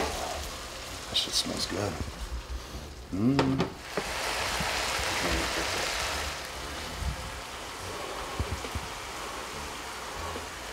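Bison and ground turkey sizzling and crackling in a pan as the fat cooks out. A steady hiss with some louder clatter near the start, and people talking over it.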